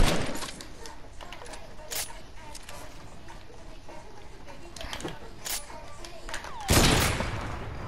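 Sniper rifle shots ring out in a video game firefight, several sharp cracks spaced irregularly over a noisy background, ending in a louder, closer burst with a lingering roar, while a voice talks in places.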